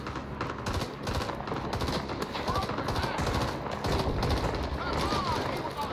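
Dense, continuous automatic gunfire rattles through a Vietnam War video game battle, loud and close with overlapping bursts, and voices may be talking underneath.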